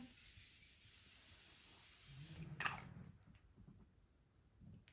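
A fine misting spray of Morphe Continuous Setting Spray hisses for a couple of seconds, continuous and airy. Soft handling noises follow in a quiet room.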